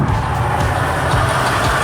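The engine of a huge airport fire truck running, a loud, steady low rumble, close and continuous.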